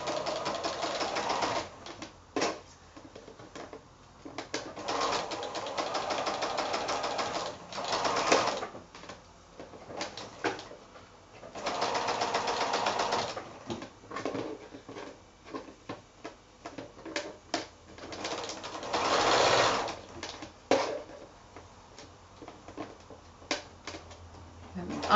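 A sewing machine stitches free-form curved quilt seams at a quarter-inch allowance, running in repeated short bursts with pauses between, its rapid mechanical chatter close and fairly loud.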